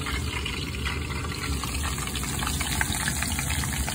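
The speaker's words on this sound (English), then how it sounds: "The best way to test how hot the grease is to find the smallest piece and put it into the grease." Deer meat frying in hot grease in a pan, a steady dense crackling sizzle that holds at an even loudness throughout with no pauses, close and fairly loud, with no talking.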